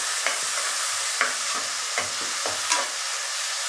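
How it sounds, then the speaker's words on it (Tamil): Sliced onions and five green chillies sauté in a pan, sizzling steadily while a spoon scrapes and stirs in four or five distinct strokes. "இப்போ இதை நல்லா வதக்கிக்கலாம்"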